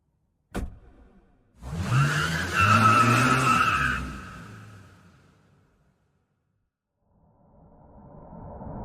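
A car pulls away with a sharp sound and then a tire-skidding rush that swells loud and fades into the distance, followed by quiet and a faint returning hiss.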